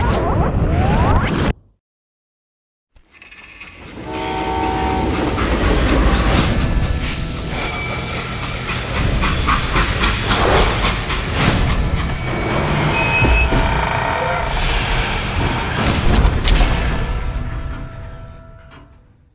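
A train in the Call of Juarez: Gunslinger video game grinds and hisses to a halt with mechanical clanks, squeals and air-brake bursts after a short silent gap, loud and continuous.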